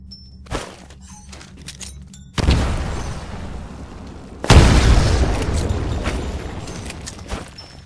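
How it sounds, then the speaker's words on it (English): Grenades thrown into windows in Titanfall go off as two heavy booming blasts, the second louder, each followed by a rumbling, crackling tail of debris, with a brief sharp pop earlier and no voices. "Throw a grenade into each of the windows."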